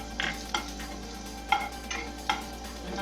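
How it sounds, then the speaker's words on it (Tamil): Ginger and garlic sautéing in a pan, a soft steady sizzle broken by several spatula scrapes and stirs against the pan at irregular intervals, with no talking. "இஞ்சி பூண்டு வாசனை போற அளவு கொஞ்சம் வதக்கிக்கலாம்"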